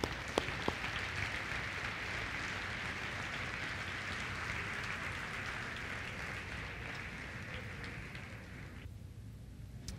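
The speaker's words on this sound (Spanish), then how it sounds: "Dale un aplauso al Señor esta mañana." A church congregation claps for the Lord during a Spanish-language sermon, a steady, dense wash of applause that holds evenly for about nine seconds before fading out near the end.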